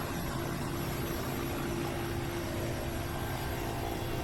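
Rotor-engine drone of a helicopter flying a flood rescue operation in Kangra district, Himachal Pradesh, a steady broadband roar with a low hum that holds constant throughout, with no voices.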